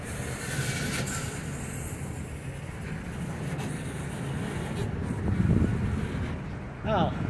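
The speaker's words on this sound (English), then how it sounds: "Oh, the end of the train is right there too." A passing freight train rolls steadily along the rails, a continuous low rumble with rising clatter near the end and a brief wheel squeal, while people talk nearby.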